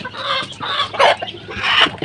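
Tiger chickens on a poultry farm cluck close by in repeated short bursts and squawks, with no talking.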